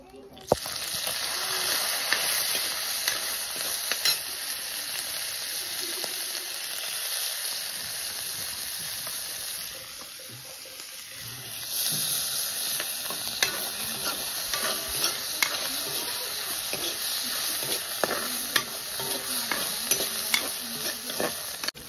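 Magur catfish fry in a pan with a steady loud sizzle and crackle, with occasional stirring and clinks of the utensil against the pan.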